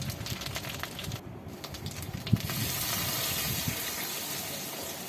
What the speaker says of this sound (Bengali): তার মধ্যে আমি এখন এর মধ্যে দিয়ে দেব জল।